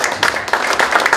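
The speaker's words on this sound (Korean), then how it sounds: "박수 크게" An audience clapping at a lecture for a CEO course, a short burst of loud, dense applause close by.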